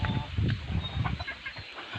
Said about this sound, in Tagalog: marami ditong manok yan ah